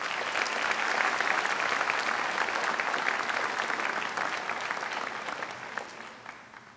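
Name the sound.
audience round of applause at graduation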